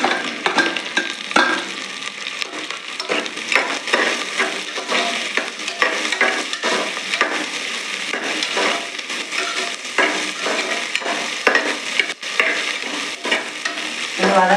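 Okra sizzles and is stirred in a pan over onions already softened, for a Tirunelveli-style vendakkai kulambu; a steady crackling fry runs throughout with frequent scraping stir strokes, close and fairly loud, no voices.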